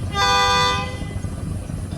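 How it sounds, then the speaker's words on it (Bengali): A passenger launch, the Tipu 12, sounds a single steady horn blast of about half a second at a river launch ghat in the early morning, loud and tonal over a low engine rumble. "টিপু বারোর হর্ন কিন্তু খুবই চমৎকার আমার কাছে আওয়াজটা খুবই ভালো লাগছে"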